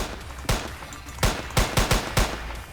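Pistol shots from a Minecraft 3D gun mod ring out in a burst of five or six sharp cracks, one alone early, then a quick uneven cluster, fairly loud against a faint game background.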